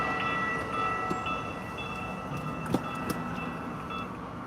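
A train passes at a distance while heard from inside a car stopped in traffic in Phoenix, a steady low rumble with faint tonal squeals and a few clacking knocks, fairly quiet throughout.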